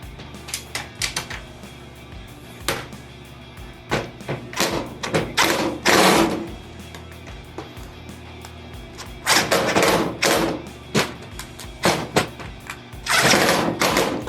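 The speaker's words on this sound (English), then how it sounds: "Instead of using a hand ratchet, I used a rat-a-tat gun." An impact wrench drives bolts in while swivels are being assembled, giving clusters of loud rattling bursts separated by pauses and scattered thumps of handling parts, up close and with no talking.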